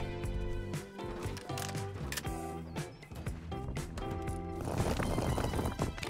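A horse in the survival game Rust clip-clops along in a quick run of hoof thuds. The steps sit over a busy layer of tonal game sound, with a possible whinny, and no one speaks.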